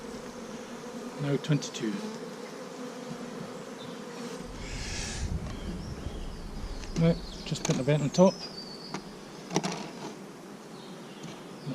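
Honeybees overwintered in a nuc buzz steadily around an open hive during transfer to a full-sized hive, a dense insect drone with brief knocks and someone speaking briefly nearby.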